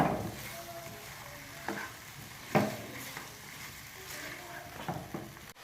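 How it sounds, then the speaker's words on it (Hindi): Finely chopped green chillies fry in half a cup of ghee, crackling in a continuous sizzle while a spoon stirs and knocks against the pot a few times; no one speaks. "अब मज़ीद इसको मैं 3 से 4 मिनट अच्छी तरह भून लूँगी, ये हरी मिर्च और घी डाल के।"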